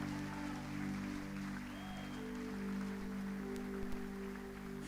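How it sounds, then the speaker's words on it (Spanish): A church congregation claps for the King of Glory during a sermon, a soft, steady patter of clapping heard behind a loud sustained organ or keyboard drone. "Alguien que aplauda al Rey de Gloria."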